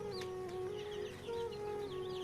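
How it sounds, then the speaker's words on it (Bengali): Day-old tiger-breed chicks peep in steady, overlapping high chirps close by, with a faint hum underneath. "এটা হচ্ছে অরিজিনাল টাইগার মুরগির বাচ্চা।"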